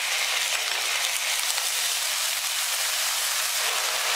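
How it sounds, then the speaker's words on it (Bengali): Ginger paste frying with a spice tempering in hot oil, a steady, even sizzle that holds close and constant throughout with no talk over it. "এখন এই আদাটুকু ফোড়নটার সাথে নেড়ে চেড়ে কিছুক্ষণ ভেজে নিব।"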